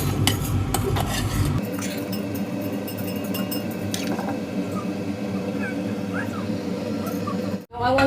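A utensil stirs seasoning into cooked quinoa salad in a bowl, with soft scraping and light clinks under a steady background hum, and a voice speaking over it.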